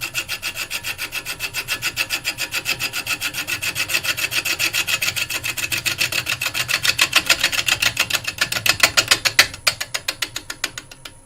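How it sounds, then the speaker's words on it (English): A lathe turns wood, likely a mallee burl, as a gouge takes fine cuts with its bevel laid on the wood, producing a loud, fast, even rhythm of scraping pulses that continues alone without talk. "I'm just laying the side of my bevel on the wood, raise my handle a little bit, and I'm just taking now some fine cuts."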